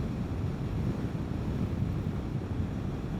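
Wind roars and buffets against the microphone while a Vespa GTS 300 scooter cruises at highway speed, a steady, loud, low rumble with no other sounds standing out.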